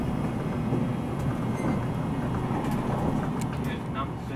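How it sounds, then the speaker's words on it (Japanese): A JR Shikoku 8000 series tilting electric express train runs with a steady low rumble and rattling, the noise constant and close, with faint clicks and squeaks over it. "この潮風26号に使われている8000系電車もカーブを速く走るための堀越式車両です。"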